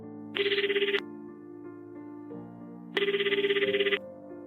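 Telephone ringing tone in a Korean radio horror drama: two bursts of a rapid, trilling electronic bell about a second long, separated by a pause, over a soft sustained musical drone, with no speech.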